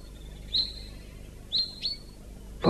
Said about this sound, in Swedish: Fågelkvitter. Titta, en bofink var det.